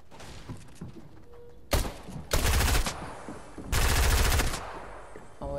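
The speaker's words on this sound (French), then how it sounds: "Ah ouais, c'est là où ça tire." Gunfire in the video game Fortnite: quiet distant shots give way to three loud automatic bursts, each rattling for under a second, with faint game ambience between them.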